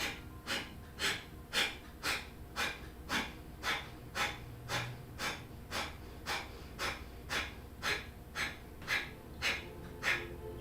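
Deep rhythmic yoga breathing exercise: about twenty forceful, evenly spaced breath pulses in a steady quick cadence, close and clear with no talking.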